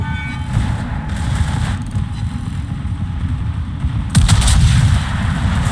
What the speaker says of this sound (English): we finally shoot the AP salvos